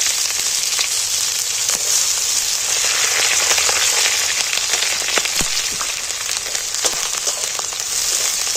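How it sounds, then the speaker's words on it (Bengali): Finely chopped onions fry in hot oil, giving a loud, dense, continuous sizzle with scattered crackles and pops throughout. "কাটা পেঁয়াজগুলো তুলে দিচ্ছি তেলের মধ্যে"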